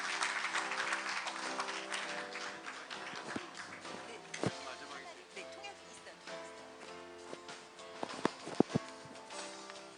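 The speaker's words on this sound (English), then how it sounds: "Please give him a big round of applause" Applause at the closing ceremony of a world congress in Seoul: a broad wash of clapping from a large hall, heard at a distance and fairly faint, mixed with music and a few sharp taps.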